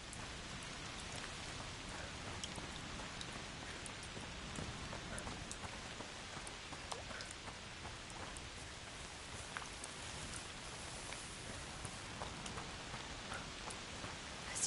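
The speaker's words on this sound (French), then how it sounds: "Saleté de pluie." Steady rain pours down in the video game A Plague Tale: Requiem, a dense continuous hiss of drops striking surfaces with no gaps, plus scattered brighter patters, even and unbroken throughout.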